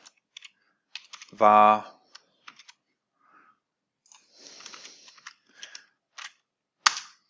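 Computer keyboard keys clicking in short scattered bursts while PHP code for a contact form is typed, close and fairly quiet, with a voice speaking briefly over the taps.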